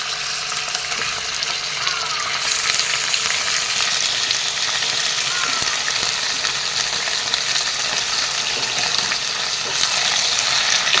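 Chicken meat fries in a pan with softened onions, a loud, dense, close sizzle running continuously while it is stirred now and then.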